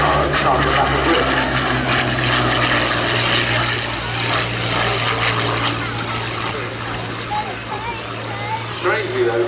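A Hawker Hurricane propeller fighter drones overhead at an air show, a loud, steady engine hum that slowly fades, with a commentator talking over it throughout.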